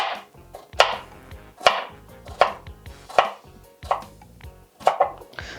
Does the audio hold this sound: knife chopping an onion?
yes